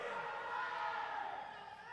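PaperReX fans in a Valorant esports arena in Hyderabad cheering, a continuous distant roar of many voices with shouts blending together, steady and low in level.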